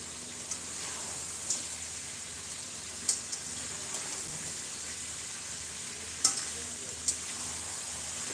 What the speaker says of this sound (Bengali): এটাকে এখন অনেকক্ষণ কষাতে হবে যতক্ষণ না পেঁয়াজ ভালো করে গলছে আর যতক্ষণ না মাংসটা এইটি পার্সেন্ট রান্না হচ্ছে